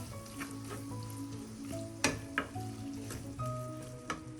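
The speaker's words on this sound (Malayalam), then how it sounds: "ഈ സമയം നമുക്ക് തക്കാളി കൂടെ ചേർക്കാം. അത് ഇതോടൊപ്പം ഒന്ന് വഴറ്റാം." Tomatoes sautéing in a pan for Kerala-style kingfish curry, a soft continuous sizzle under faint tonal background sound, with a few clinks of a spoon or spatula stirring.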